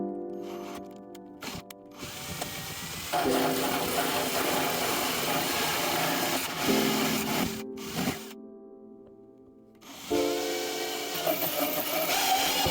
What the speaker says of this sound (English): Drill a pilot hole in the center point before moving on to the hole saw.